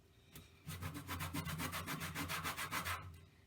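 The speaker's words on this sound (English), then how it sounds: "here you can grate your lemon on the cutting board. Keep grating till you go all the way around" A lemon is grated over a cutting board for cookie baking: a quick run of about a dozen even, rasping strokes, close and clear, with no voices.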